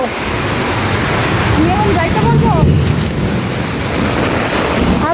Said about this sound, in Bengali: পানি আসতেছে কিভাবে ঘরের মধ্যে পানি ঢুকতেছে